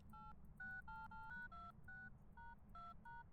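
Phone keypad tones from a phone in Phasmophobia, about a dozen short two-tone beeps in quick, slightly irregular succession, faint over a low background hum.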